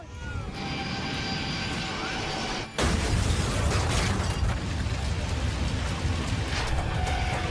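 A dramatized airplane crash, a loud roaring engine drone that cuts off briefly and then erupts into a dense, violent rumbling blast continuing to the end, with a voice speaking underneath.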